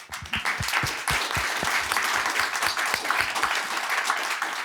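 A studio audience claps after a panel discussion on menopause care, with sharp individual claps up close over a dense, sustained wash of applause that holds steady throughout.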